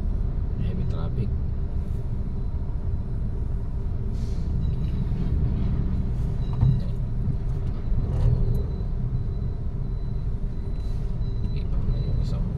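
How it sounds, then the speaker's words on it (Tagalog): Heavy road traffic in Marikina City, with a steady, loud rumble of cars, buses and trucks and an occasional hiss of air brakes, continuous and close. "Heavy traffic."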